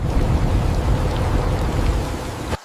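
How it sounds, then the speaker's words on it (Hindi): Heavy monsoon rain pours steadily over a village in a dense, continuous hiss with a deep low rumble like thunder beneath it, loud and unbroken until it cuts off abruptly near the end. "बादलों ने जैसे पूरे गांव को ढक लिया और शुरू हुआ घनघोर बारिश।"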